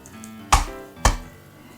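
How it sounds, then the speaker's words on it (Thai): Two sharp, heavy knife thumps as water spinach stems are pounded on a cutting board about half a second apart, close and loud, with quiet room noise between. "ใช้มีดทุบๆไปค่ะ"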